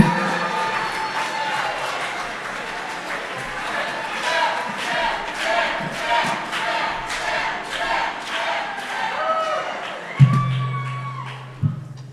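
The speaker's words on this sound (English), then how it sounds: "a round of applause for your best man, Sam Ginsberg" Wedding guests at a reception applaud and cheer for the best man, a loud crowd roar with voices and shouts mixed in and a couple of sharp thumps near the end.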